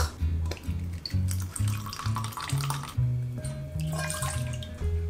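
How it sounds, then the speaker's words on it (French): Cider vinegar pours into a small measuring glass with a close, continuous liquid trickle and rising gurgling tones as the glass fills. "on va commencer par mettre le vinaigre. Je vais remplir ce petit verre doseur, 100 ml."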